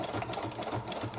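Sewing machine stitching fabric, a brief, rapid rhythmic whir of the needle running close and moderately quiet, with no talking.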